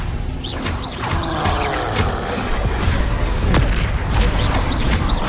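Rapid combat spellcasting in the Hogwarts Legacy video game, with Protego, Confringo and Expelliarmus: a dense, continuous barrage of booming blasts, crashes and whooshing impacts that overlap without pause, loud and close.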